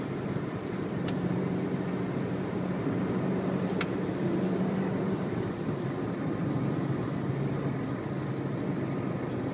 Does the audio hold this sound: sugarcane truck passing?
yes